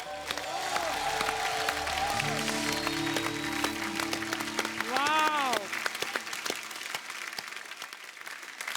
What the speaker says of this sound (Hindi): खुल के तालियां हो जाए हमारे आज के सारे मेहमानों के लिए।